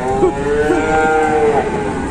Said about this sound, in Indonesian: Walalah, banyak sapi ngamuk guys.